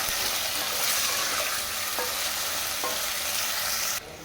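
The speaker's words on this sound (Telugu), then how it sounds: "ఆలు వేసుకొని గోల్డెన్ బ్రౌన్ వచ్చే వరకు ఫ్రై చేసుకోవాలి" Potatoes fry in a pan of hot oil for an aloo fry curry, giving a steady, loud sizzle with a couple of faint stirring clicks before the sound drops slightly near the end.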